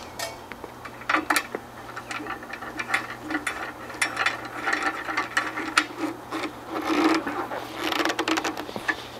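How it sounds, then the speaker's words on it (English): Metal bolt threaded into a lock washer on a motorcycle helmet and jacket bolt lock, giving a run of close, small ratcheting clicks and metallic ticks, moderately quiet with no talking. "Insert the bolt into the bolt lock washer."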